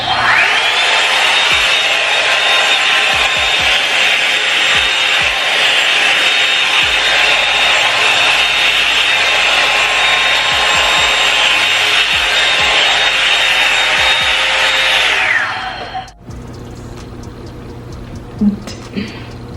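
A Revlon hair dryer blows with a loud, steady airy roar for about fifteen seconds at midnight, then cuts off, leaving quiet handling sounds and soft bumps.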